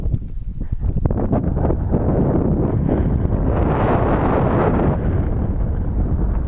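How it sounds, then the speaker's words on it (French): Strong, cold wind roars steadily across a microphone at a high mountain pass on a desert track in the Sud Lípez, a loud, continuous buffeting rush with no voices. "il y a du vent, froid évidemment"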